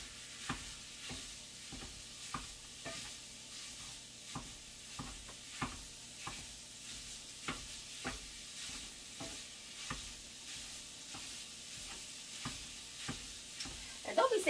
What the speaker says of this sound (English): Mash all that up like that there.